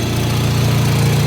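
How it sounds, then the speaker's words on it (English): An Audi S3 8V engine idles steadily with a low, even rumble and slight vibration, close by and continuous, heard through a functional bonnet scoop. "see if we can hear some engine noise"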